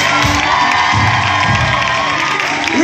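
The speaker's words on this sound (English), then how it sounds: "give him a round of applause" A large concert crowd at a show in Madrid cheers, whoops and claps for the bass player, a dense, continuous wash of noise that holds steady throughout with no clear gaps.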